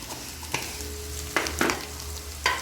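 Beef samosa filling frying with salt and cumin gets stirred in a pan, a steady low sizzle broken by a few sharp spoon scrapes and knocks, close up, with no voices.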